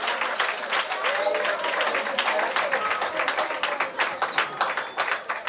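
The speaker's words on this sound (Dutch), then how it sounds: "Nogmaals een applaus voor de jongeren uit Mungo." An audience applauds the youth from Mungo after their singing, with a dense run of clapping and some crowd noise, while voices are heard over it.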